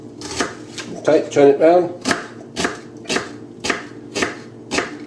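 A knife chops a big onion on a cutting board in a series of brisk, evenly spaced cuts at close range, with someone speaking at times over the chopping.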